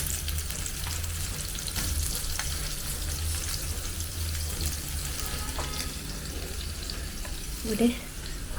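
Cut paneer pieces shallow frying in oil for palak paneer give a steady, low, even sizzle with a soft background hum, and a small clink from the pan near the end.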